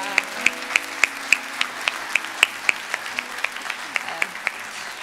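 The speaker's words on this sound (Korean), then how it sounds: "어디 계신데 한번 박수로 감사합니다" Sparse, steady claps ring out in a Korean church congregation during a Sunday service, thanking a visiting worship minister, with a voice talking over the clapping.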